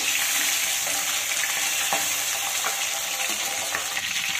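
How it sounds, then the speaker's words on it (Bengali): Pabda fish pieces frying lightly in a pan give a steady, close crackling sizzle with a few soft clicks as a piece is turned, no voices. "দেখো এই পিসটা উল্টে দিচ্ছি। এর থেকে কড়া করে ভাজার প্রয়োজন নেই।"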